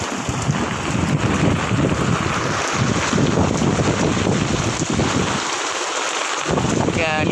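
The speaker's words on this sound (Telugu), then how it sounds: "గాలి కూడా ఉంది, వర్షం కూడా ఉందండి" Wind and rain pour steadily outdoors beside a garden swing and umbrella, a dense continuous hiss with the wind buffeting the microphone and a brief lull near the end.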